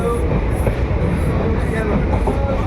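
The Bhagirathi Express, running from Sealdah to Berhampore, picks up speed after leaving Kalyani station in the evening, with a steady, loud rumble and rhythmic wheel clatter heard from on board.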